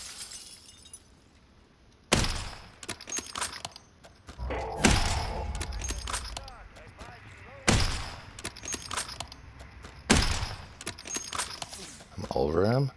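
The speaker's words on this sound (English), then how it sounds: "500 meters, I'm gonna take this shot." A long-range sniper rifle shot in Call of Duty Warzone, fired at a target 500 meters away: several sharp, loud cracks with short ringing tails, spread across the stretch, with a voice talking in between.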